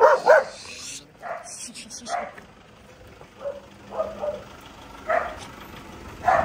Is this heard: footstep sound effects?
no